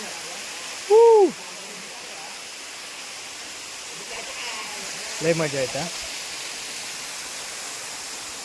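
Musalavzar waterfall in the Sahyadri hills gives a constant rushing hiss of falling water in the background, while people talk and call out over it now and then.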